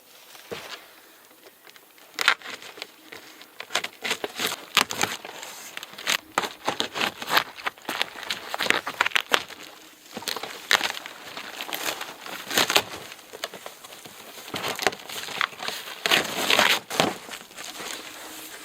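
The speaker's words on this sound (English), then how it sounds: "Let's just open the box." A cardboard mystery box for beekeeping being opened close by, with irregular rustling, scraping and crinkling of packaging in dense bursts throughout, no talk.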